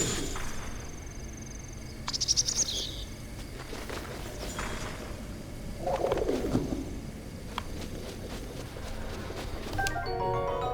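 A bird coos in Zelda: Breath of the Wild, a few soft pigeon-like calls at moderate distance over a faint outdoor ambience with light footsteps and chirps, no speech.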